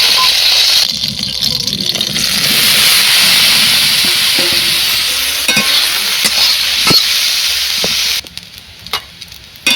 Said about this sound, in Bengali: এর মধ্যে সয়াবিনগুলো ভেজে নেবো দিয়ে দেবো তেল